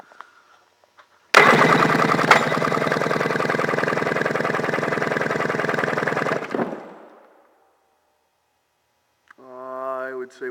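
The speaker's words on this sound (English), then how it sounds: "We're going to do an engine compression test." A 1997 Sea-Doo SPX 787/800 two-stroke engine cranks on the starter during a compression test, a loud, rapid, even chugging that runs about five seconds and then stops abruptly, with a brief voice near the end.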